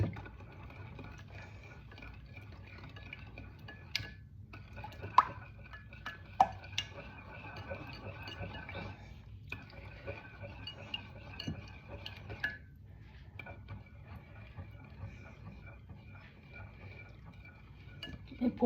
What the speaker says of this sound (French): Vous remuez tout.